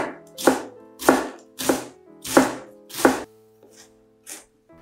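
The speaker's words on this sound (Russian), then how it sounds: "теперь при помощи ножа измельчаю ее еще чуть-чуть помельче" Five sharp knife chops cut through cabbage on a board at a steady rhythm, followed by two softer, lighter cuts; close and clear, with no talking.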